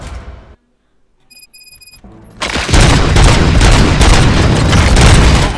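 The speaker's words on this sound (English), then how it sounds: "Gunshots? What's going on?" Loud gunfire erupts in the RoboCop: Rogue City video game after a brief beeping tone, a sustained, dense barrage of rapid shots that fills the rest of the moment.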